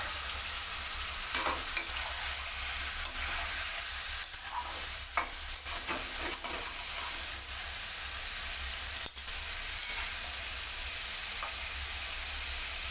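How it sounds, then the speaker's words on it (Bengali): Slit green chillies fry in a pan with lemon pepper chicken, giving a steady, close sizzle throughout, broken by occasional scrapes and clicks of stirring and no talking. "এবার এর মধ্যে চেরা কাঁচা লঙ্কাগুলো দিয়ে দেবো।"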